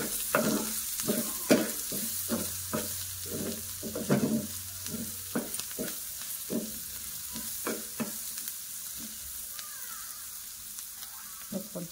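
Vegetables with turmeric and red chilli stir-fry in a pan with a steady sizzle, while a spatula scrapes and taps in quick, repeated strokes throughout.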